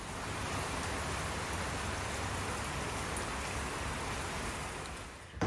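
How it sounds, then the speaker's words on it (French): Heavy rain pours down steadily outside a house, a dense, continuous loud hiss that fills the whole stretch before easing slightly at the end. "comme vous avez vu, il y a la grosse pluie."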